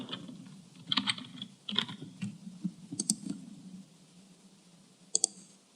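Keys clatter on a computer keyboard as a Couchbase username is typed, in irregular bursts of close, quiet clicks with pauses between, ending in a couple of sharper isolated presses.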